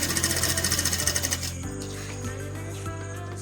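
A sewing machine stitches a pillow cover with a rapid, even mechanical chatter for about a second and a half, then slows and stops, leaving a faint motor hum and a few soft clicks.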